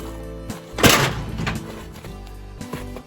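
An old wooden door on a cattle shed being moved, giving a heavy thunk and a scraping, rattling slide of worn wood and hardware, with a few softer knocks afterward.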